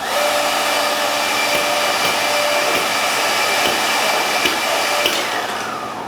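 Pocket hole machine's router running with the jam eject turned off: a loud, continuous high-pitched whine and rushing motor noise, steady throughout with faint rattles, no talk.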